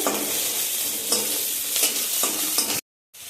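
Fried tomato tipped into a sizzling chutney in a pan, with steady frying hiss and repeated stirring scrapes, loud and close, ending in a sudden cut to silence.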